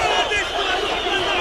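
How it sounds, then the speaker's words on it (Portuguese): Corinthians supporters chant together in a packed stadium during a Brasileirão match against Bragantino, a dense, steady roar of massed voices filling the short stretch without a break. "Ou joga por amor ou joga por terror. É o que grita a torcida"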